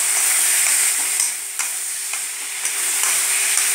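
Chilli powder sizzles and crackles in a hot pan of eggplant pulusu, a close, steady frying hiss with a few sharp stirring scrapes and pops breaking through.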